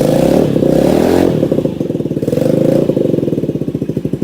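A small Honda Ruckus motor scooter engine runs loud and close, revving briefly, then settling into a rapid, pulsing putter as it idles down.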